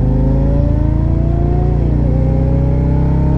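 A car engine drives past nearby, a steady loud motor drone with a rising then falling pitch as it goes by, no talking.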